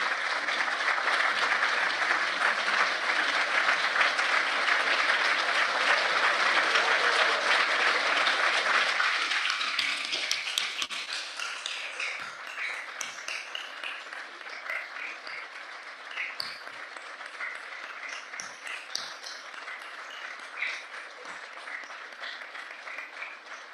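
An event audience applauds its volunteers with a long, loud round of dense clapping that holds steady for several seconds, then thins into scattered, sparser claps.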